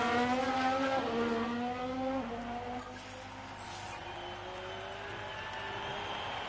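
F1 Manager 22 race cars overtaking on a straight at the Circuit of the Americas, engine notes shifting downward as they pass, loud and close with a steady broadband roar.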